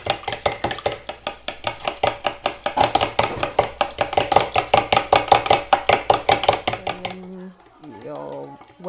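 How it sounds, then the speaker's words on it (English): Rhythmic scraping and tapping of a spoon stirring doughnut batter with sugar and eggs in a bowl, close and steady for about seven seconds, then stopping as a voice speaks briefly. "So you add everything and you stir."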